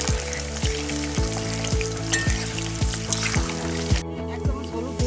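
Potatoes fry in a little hot oil, a steady close sizzle running throughout with a faint repeating low knock in the background and no talking.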